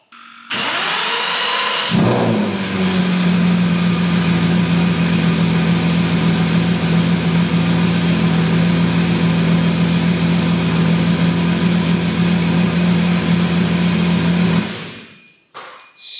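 A Lamborghini Murcielago GT1 road car engine starts with a quick roar, settles into a loud, steady, deep idle held close up for over ten seconds, then cuts off abruptly.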